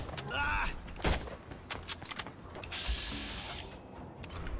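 Gunfire in the video game Fallout London: a few sharp, loud shots spaced irregularly over a few seconds, mixed with mechanical clatter and other game sounds.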